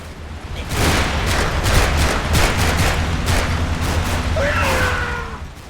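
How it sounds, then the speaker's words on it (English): Sustained exchange of gunfire from the World War II video game Combat Mission: Red Thunder, with a command team shooting from a Schwimmwagen during a river crossing battle; dense, continuous bursts and rattling shots with a rumbling low boom throughout. "The command team in a Schwimmwagen attempts to drive by shooting."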